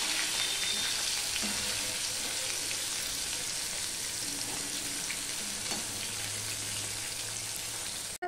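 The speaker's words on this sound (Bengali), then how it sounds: "এই পিসটাও আমি ভেজে নেব।" A piece of hilsa fish frying in hot oil in a pan, with a steady, dense sizzle and crackle throughout, close and fairly loud, with faint clinks in the background.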